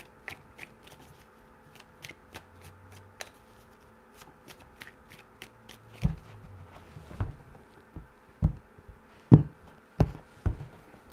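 Tarot cards riffle and snap in a quick shuffle, light flicks at first, then louder slaps and taps toward the end, close and without talking.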